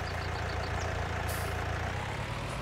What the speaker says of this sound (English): turn the engine off here.